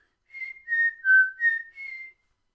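A thin, high overtone whistle produced from sung vowels, its pitch gliding up and down across a few notes for about two seconds, with no other sound.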